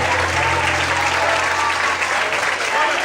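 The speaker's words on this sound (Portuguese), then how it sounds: "então bate palma e aplaude ao Senhor" A church congregation claps and applauds during a worship service, a dense, steady wash of hand claps that fills the room and stays loud throughout without letting up.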